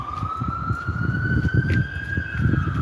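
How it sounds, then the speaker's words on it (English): A continuous emergency vehicle siren wails along the old streets of Bournemouth, a steady rising tone heard at moderate distance over rumbling traffic noise, with no voices. "Sirens here and there."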